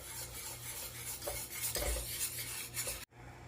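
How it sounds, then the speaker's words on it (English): Apple pie filling thickened with cornstarch bubbles and simmers softly in a pan, a faint steady sizzle with small scraping stirs, ending in a sudden drop near the end. "we're letting this boil a little and simmer, get thick"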